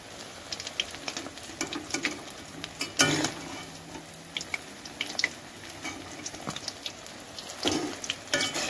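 Rice flour and coriander leaf fritters sizzle in hot oil, a steady close crackle broken by sharp metallic clinks and scrapes as pieces are turned and lifted out.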